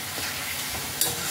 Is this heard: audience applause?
no